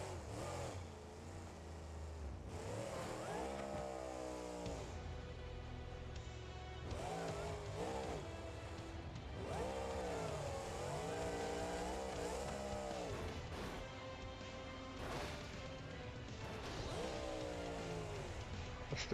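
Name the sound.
car with V12 engine revving in BeamNG.drive video game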